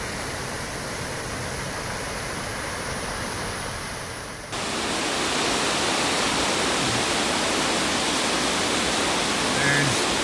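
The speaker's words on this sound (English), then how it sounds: "Beautiful little upper falls here, coming off of some crazy log jam." Small upper waterfall spilling below a tangled log jam on Plympton Creek, a steady broadband rush of falling water that grows louder and fuller partway through, as if approached, continuing unbroken to the end with no voices.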